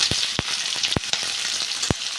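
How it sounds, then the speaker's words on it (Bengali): Sliced onion sizzles in hot oil with whole cumin and dried red chilli, making a constant close crackle broken by a few dull taps of a spatula against the pan. "পেঁয়াজটা একটু ভেজে দেবো"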